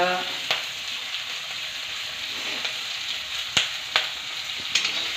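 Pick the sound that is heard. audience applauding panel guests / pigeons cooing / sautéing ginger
sautéing ginger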